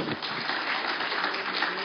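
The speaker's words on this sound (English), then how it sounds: "Please give her a round of applause," An audience at a 2011 leadership congress awards ceremony claps for a recipient, a dense, steady patter of applause filling the hall at moderate volume.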